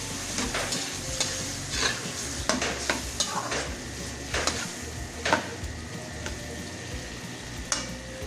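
Sliced mushrooms stirred in a hot pan for roast beef with vegetables, with a steady sizzle under repeated scraping and clinking strokes of the utensil, close and moderately loud, no talking.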